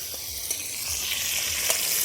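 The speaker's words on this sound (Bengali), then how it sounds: "এবারে আমরা মশলাটা কষে নিচ্ছি" Spice masala being fried down in a pan for a village-style cauliflower dish, a steady bright hiss of sizzling oil with a few soft stirring clicks, close and continuous, no voices.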